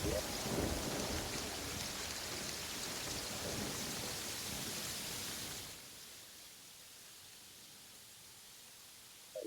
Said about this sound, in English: Why is it raining already?